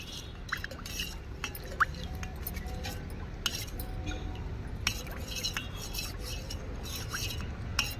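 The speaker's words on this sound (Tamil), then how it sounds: "இந்த சர்க்கரையை வந்து நல்லா கரையிற அளவுக்கு கரைச்சிக்கணும்" A spoon stirring sugar into water to dissolve it for feeding honeybees, scattered clinks and scrapes against the container over a steady hiss, fairly close and unhurried.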